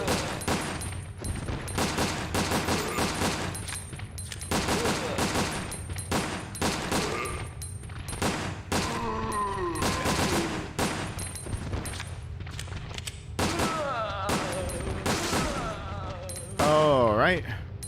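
Gunshots ring out in Resident Evil: Dead Aim, a dense run of sharp, loud repeated shots spread across the stretch with brief gaps, while someone talks excitedly over the firing.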